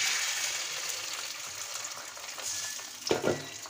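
An egg fries in a pan alongside onion and green chilli, a steady soft sizzle with occasional stirring scrapes and a brief louder clatter near the end.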